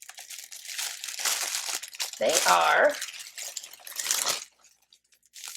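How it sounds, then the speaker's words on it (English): Plastic self-seal shipping bags with a glue strip and peel-off ribbon crinkle and rustle as they are handled, moderately loud and close. Steady talking runs underneath and between the crinkles. "these plastic bags here that have the glue on it, which you would take that little ribbon off and then seal"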